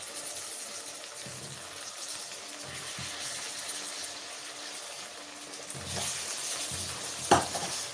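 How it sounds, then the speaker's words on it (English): Apples are stirred into butter caramel in a pan, giving a soft steady sizzle with faint scraping and a brighter burst of frying near the end. "So I'm going to quick stir in my apples in this lovely caramel."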